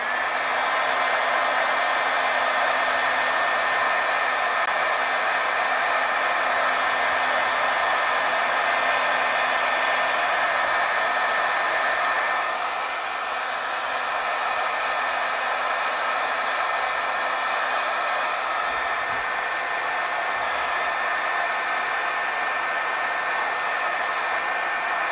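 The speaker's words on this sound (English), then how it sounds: "I'm just going to heat set here a little bit and see if that will set up." A heat tool blows steadily to set ink on a stamped card, a loud continuous whirring hiss of fan and hot air running unbroken, dipping slightly partway through.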